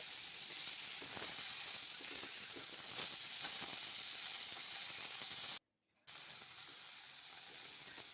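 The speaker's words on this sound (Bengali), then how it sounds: "এখন ডাঁটা আলু বেশ ভালো করে আমি আরেকটু ভেজে নিচ্ছি" Pumpkin stalks and potatoes fry in a pan with a quiet, continuous hiss and crackle. A short silent gap falls near the end, then the sizzle resumes.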